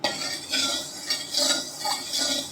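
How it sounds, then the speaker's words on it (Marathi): Gram flour roasting in ghee being stirred continuously in a pan, a close, steady scraping and soft metallic scuffing in repeated strokes with no talk. "आता हे छान आता ब्राऊन कलर येईपर्यंत आपण ढवळायचं सतत ढवळत राहायचं"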